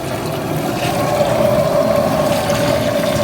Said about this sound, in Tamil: இதில் வந்து மட்டன் தண்ணி சேர்த்துக்கணும்.